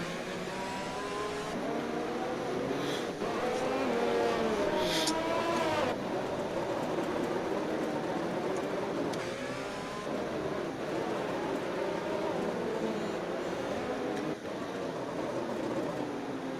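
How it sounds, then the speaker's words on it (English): A racing car engine in an F1 video game at Monaco whines steadily throughout, its pitch climbing and falling as it revs, with no voices. "So you can hear Teok's engine throughout the whole field"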